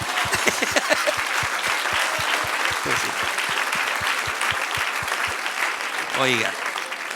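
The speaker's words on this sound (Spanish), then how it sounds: "Dese un aplauso a sí mismo" Applause fills a church service: the congregation claps steadily in a rhythmic, even beat, with voices speaking over the clapping.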